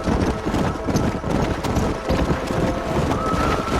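Horse hooves gallop in a steady, rapid clip-clop through the Red Dead Redemption video game, riding across a cactus-covered plain. The pounding is loud and continuous, with wind rushing underneath.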